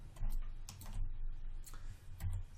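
Quiet, close keyboard tapping with a scattering of light clicks and a firmer keystroke near the end, as keys are pressed on a computer keyboard, with no talking.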